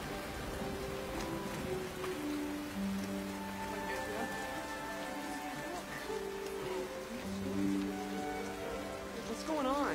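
Steady rain falls as a soft constant hiss beneath the film's orchestral score, with sustained musical tones running over it throughout.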